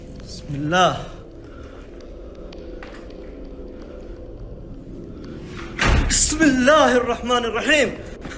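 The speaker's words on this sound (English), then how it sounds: "We all saw the door slam by itself" A door slams shut on its own with one heavy, close thud in a building, followed by a burst of people's startled voices; earlier there is a short vocal sound and faint background noise.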